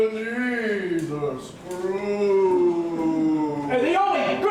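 Mournful, drawn-out howls rise and fall in long wavering glides during a stage comedy version of A Christmas Carol, loud and close, with a brief dip before the howling swells again.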